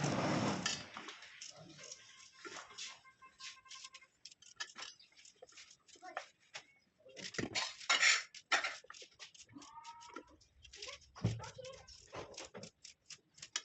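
A knife finely chops onions on a cutting board in a home village kitchen, giving quick, light, irregular tapping strokes in uneven bursts, fairly faint and close.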